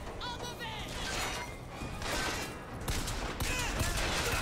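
Gunfire from Bioshock Infinite crackles in several sharp, fairly quiet bursts spread unevenly, with crashing impacts and clattering mechanisms among the shots.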